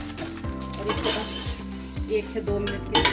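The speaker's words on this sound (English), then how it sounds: "We're just gonna stir it for about a minute or two. Medium heat." Vermicelli stirred in butter in a pan over medium heat gives a steady close sizzle, with a spoon scraping the pan in regular strokes about every half second.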